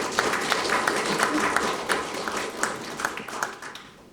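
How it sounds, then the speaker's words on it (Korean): A crowd applauds steadily at a Buddhist academic conference, a dense wash of clapping that holds for several seconds and thins slightly toward the end. "저희들 종단에서 큰 박수로 감사를 표하겠습니다"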